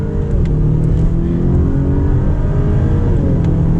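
Acura RDX A-Spec accelerating on a highway, heard from inside the cabin as a loud, steady engine drone climbing in pitch beneath heavy road and wind rumble.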